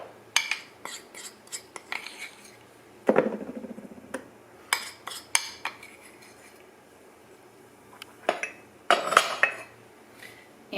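A metal spoon scrapes and clinks against a bowl while a half cup of peanut butter is scooped for coffee cake batter, sparse sharp taps and scrapes with quiet gaps between.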